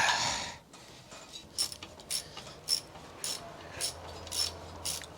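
A ratchet turns a tight bolt in the cramped engine area of an old cab-over-engine truck, giving a series of short, crisp clicking bursts in an uneven rhythm after a brief rustle.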